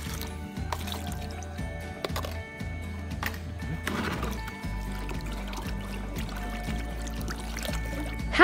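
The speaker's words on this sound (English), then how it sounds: "Add the dye to a sink." Batik dye poured into a sink, a steady liquid pour and trickle with drips running throughout at moderate level, no talking.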